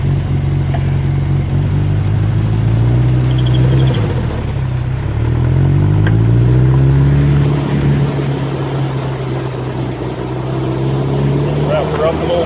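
A custom old-school trike powered by a VW engine rides around the block, its steady loud engine drone rising and falling as it accelerates and shifts, heard close throughout.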